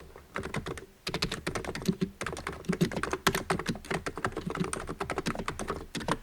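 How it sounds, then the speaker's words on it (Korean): Quick, continuous clatter of keys on a computer keyboard, close and dry, with a brief pause near the start before steady typing resumes. "이렇게 글씨를 먼저 쳐주시고"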